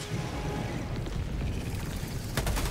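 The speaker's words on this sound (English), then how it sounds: "Oh, did you see that fucking explosion, bro?" Explosion in Helldivers 2, a heavy, sustained rumbling blast with dense low-end roar, followed by a sharp crack near the end, loud and close.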